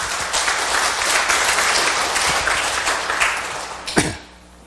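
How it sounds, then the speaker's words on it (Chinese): An audience at a religious gathering claps together in a dense, sustained round of applause that swells, ends in a final loud burst and quickly fades out. "我们再一次的掌声了啊！"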